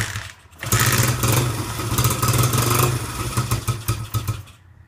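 A 1984 Honda XR80 motorcycle engine fires after a kick start and runs loud and close with a rough, steady clatter for several seconds before cutting off.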